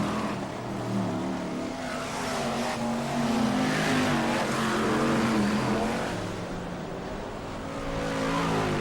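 BriSCA Formula 1 stock cars racing at Kings Lynn in 1995, a loud, continuous roar of several big engines swelling and fading as the pack circles, with overlapping revs and no clear voices.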